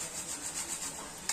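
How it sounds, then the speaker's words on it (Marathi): Nutmeg grated over carrot halwa, a soft, steady rasping scrape that is fairly quiet and continuous, ending with a brief sharper scratch. "आता आपण याच्यात थोडंसं जायफळ किसून घालूया."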